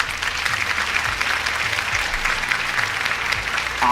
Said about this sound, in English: or a polite round of applause